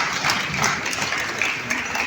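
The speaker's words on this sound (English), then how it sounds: "I think we all deserve a round of applause." An audience applauds at a glitzy awards ceremony and business summit in Lagos, a steady, dense wash of clapping that holds at an even level for the whole stretch, with a hint of voices underneath.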